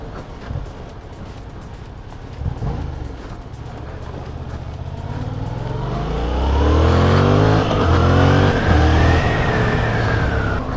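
A Yamaha MT-07 motorcycle engine pulls hard and loud, its pitch climbing through several rising sweeps with brief shifts between them, close and continuous with no talk.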